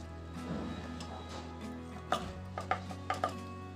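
A kitchen knife slices kantola (spiny gourd) lengthwise, giving a few crisp, close cutting taps in quick succession over a faint background hum.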